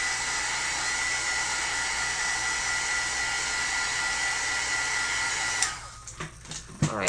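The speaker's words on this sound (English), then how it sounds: "Let me hit it with a heat gun." A heat gun blows hot air on a handmade card in a steady, loud whooshing roar that runs for several seconds before cutting off, followed by a few light handling knocks.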